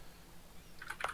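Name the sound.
computer keyboard typing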